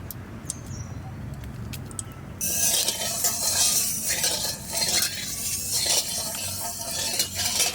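Oil hits a hot pan with a sudden loud sizzle after a couple of seconds of quiet kitchen clinks, and the crackling hiss then carries on steadily with scattered utensil taps.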